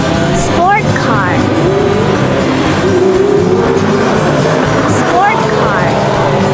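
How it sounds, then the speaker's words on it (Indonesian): A sports car passes by with a loud engine rush and whooshing tire noise, the sound swelling and fading twice amid steady road ambience. "Sport car."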